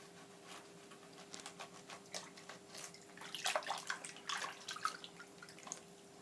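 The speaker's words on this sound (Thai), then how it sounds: "แล้วก็เอามาล้างๆน้ำมะนาวนิดนึงนะคะ" Banana blossom is washed with lime water, giving soft, close splashing and patter in irregular bursts that grow busier midway.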